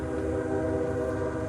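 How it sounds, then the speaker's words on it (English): A train passes near a disc golf course, its steady, loud rumble and sustained tonal horn-like drone filling the whole short stretch without pause. "Gotta love the trains."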